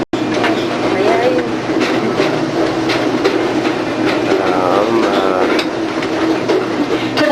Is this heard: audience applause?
no